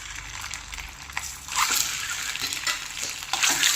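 Eggs frying in a masala gravy, a steady bubbling sizzle that swells louder partway through as the mixture is stirred, with soft scraping and squelchy movement.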